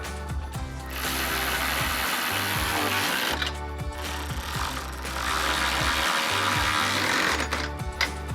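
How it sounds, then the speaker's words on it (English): A 13mm socket and ratchet tighten the running board bracket bolts on a 2019-2026 Ford Ranger: a steady mechanical whirring and rapid clicking runs for several seconds, pauses briefly, then resumes close and continuous. "to tighten it down, we're going to use a 13mm socket and a ratchet"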